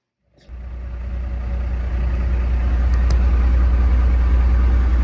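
A diesel truck engine with a turbo, set up to run about 55 pounds of boost, starts abruptly and settles into a loud, steady close-up rumble that builds slightly and holds.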